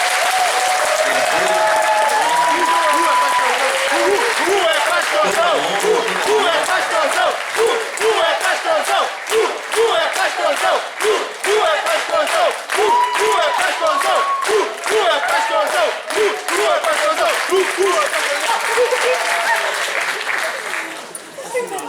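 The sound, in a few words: congregation applause in church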